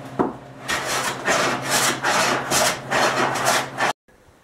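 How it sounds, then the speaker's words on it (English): A hand plane shaving a cherry wood board for a Chippendale table, with about half a dozen close, rhythmic rasping strokes in steady succession before a brief silence. "So we'll be planing here for a little while."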